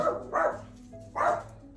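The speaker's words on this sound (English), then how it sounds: "Y'all hear the dogs barking?" Dogs bark outdoors and carry in through open doors, two muffled, mid-distance barks a moment apart over a quiet kitchen background.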